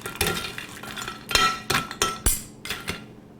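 Panzanella bread salad with croutons is tossed in a bowl, giving a run of irregular clinks and knocks of utensils against the bowl, close and fairly loud, fading out near the end.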